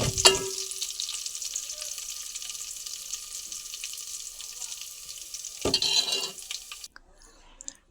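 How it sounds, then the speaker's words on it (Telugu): Tempering spices hitting hot oil for peppery tomato rasam, a sharp sizzle that bursts up loudly, settles into a low steady crackle, flares again near the end, then cuts off. "తాలింపు వేసుకోవాలి"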